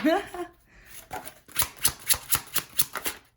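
A stack of tarot cards is riffled and shuffled in quick repeated bursts, close up, after a brief spoken voice at the start.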